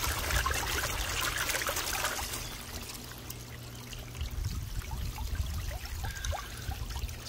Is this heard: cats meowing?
no